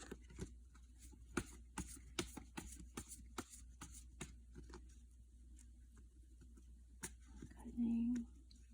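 Quiet riffling of animal oracle cards being shuffled in quick irregular bursts, followed by a soft voice and a brief low hum near the end.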